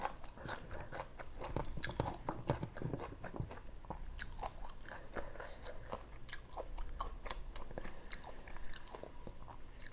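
Raw duck is chewed close up, with wet, crunchy bites and steady mastication repeating in an irregular rhythm, loud and alone without talk.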